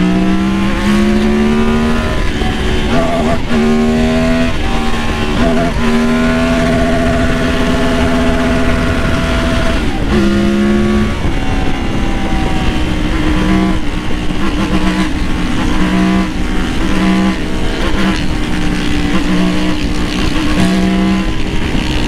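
Yamaha Super Ténéré motorcycle with an aftermarket exhaust revving hard, engine pitch climbing and falling through repeated loud accelerations and gear changes, close and dominant throughout.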